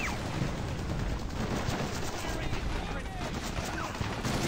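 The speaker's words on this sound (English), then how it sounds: "bullets are hitting back here" Sustained gunfire and bullet impacts from a WWII battle at Peleliu airfield in Men of War: Assault Squad 2, a dense, steady clatter of rifle and machine-gun shots with crashing hits, loud and continuous throughout.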